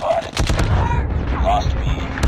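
Booming missile strike explosions in Call of Duty Mobile, with gunfire and game voice callouts mixed over a short, loud, dense burst of combat.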